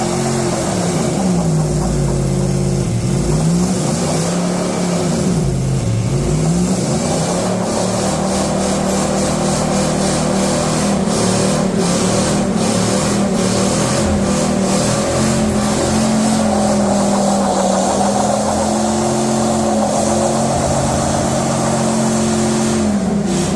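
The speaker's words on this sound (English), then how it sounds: "do a big ass burnout" A 2000 Toyota Tundra on 35-inch tires with dual lockers does a burnout, the engine revving hard in rising and falling surges over a constant loud roar and tire scrub, close and sustained with no talking.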